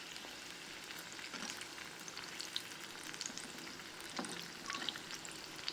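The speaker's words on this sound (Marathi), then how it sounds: "प्रत्येक घाणा तळण्यासाठी जवळपास 4 ते 5 मिनिट लागतील." Mixed vegetables deep-fry in oil in a kadai over medium-high heat, giving a continuous close crackling sizzle with scattered sharp pops throughout.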